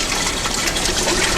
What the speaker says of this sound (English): The water is flowing in the channels here.